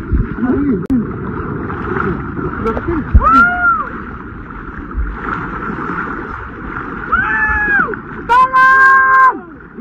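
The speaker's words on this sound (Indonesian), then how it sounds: "terdengar suara meminta tolong" Passengers cry out and scream for help after a boat capsizes, with several rising and falling shrieks over water splashing and gurgling, close and loud, mixed with talk.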